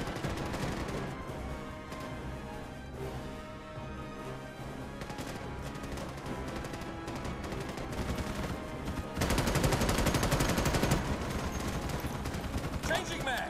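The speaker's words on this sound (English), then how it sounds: "I hear shooting." Dense, continuous automatic gunfire from the video game Starship Troopers: Extermination, loud and sustained with overlapping rapid bursts that swell even heavier toward the end, with no talk.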